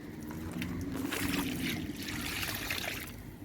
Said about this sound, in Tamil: இப்போ லெமன் செடிக்கு ஊற்றிக்கலாம்.